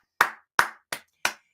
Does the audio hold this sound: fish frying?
no